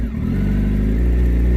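Motorcycle being ridden, a loud, close engine drone with strong low harmonics that rises slightly in pitch as it accelerates through the short stretch, heard alone.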